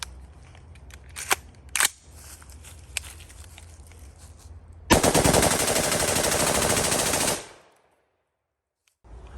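A Rare Breed FRT forced-reset trigger firing a 30-round burst, a loud continuous rapid stream of gunshots lasting about two and a half seconds outdoors, preceded by a few scattered handling clicks and followed by abrupt silence.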